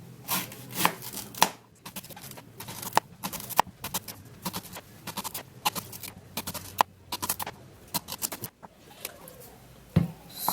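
A knife chops through unripe plantain with the peel still on, landing on a board in an irregular run of sharp, close knocks separated by short pauses.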